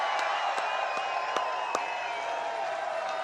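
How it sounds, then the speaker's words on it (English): A large rally crowd at a Donald Trump event with Elon Musk breaks into a sustained cheer, a dense, steady roar with scattered whoops and a few sharp claps standing out over the wash of noise. "big cheer"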